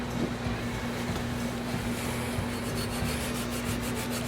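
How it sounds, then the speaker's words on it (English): A Scotch-Brite pad scrubs the metal surface of a Kawasaki FD590V water-cooled engine, giving a steady close-up rasping rub with repeated strokes over a faint background hum. "So I'm going to take a Scotch-Brite pad"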